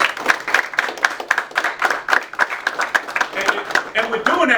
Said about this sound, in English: Let's give a round of applause for Coach.